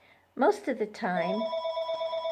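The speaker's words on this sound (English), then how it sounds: "I apologize for that phone ringing." A telephone rings in a room with a steady, sustained electronic tone that starts about a second in and keeps going, after a person speaks a few words close by.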